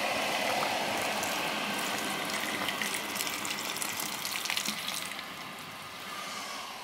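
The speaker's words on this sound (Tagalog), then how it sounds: "Dumaga natin yung pan guys. Tubig." Tap water gushing steadily into a cooking pan for nilagang baka, a loud continuous splashing rush that eases off slightly toward the end, with no voices.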